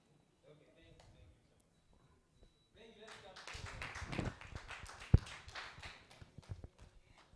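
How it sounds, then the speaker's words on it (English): Audience at a media literacy hackathon pitch day applauds a presenter, scattered clapping building from quiet into a fuller round with one sharp loud clap near the peak. "Another round of applause for Livingstone"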